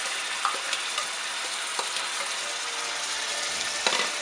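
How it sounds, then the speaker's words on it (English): Minced garlic sizzles with caramelized onions in a pan, a steady bright crackling hiss with a few soft clicks of stirring, alone and close. "Add it in there so it's sizzling."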